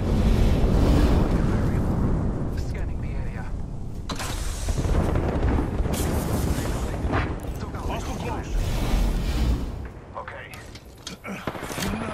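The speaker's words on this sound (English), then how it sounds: "Signaling an airstrike" An airstrike in the battle-royale game Apex Legends brings a run of heavy, rumbling blasts that roll into one another, loud and close, with mechanical clatter between the booms.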